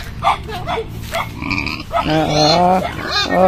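A pig sheltering under a house on a residential farm grunts and squeals close by, rough snorts building into a louder drawn-out squeal, with people talking faintly around it.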